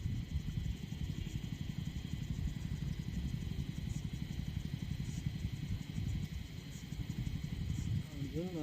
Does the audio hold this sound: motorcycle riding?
yes